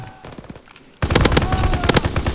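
Rapid bursts of gunfire from Call of Duty WW2 erupt loud and dense after a quieter opening second, with repeated sharp shots continuing to the end.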